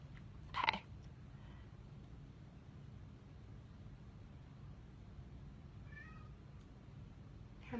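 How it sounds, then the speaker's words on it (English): A pet cat gives one short meow near the start in a quiet room, followed by faint low background noise and a soft trailing sound later. "Here's my cat."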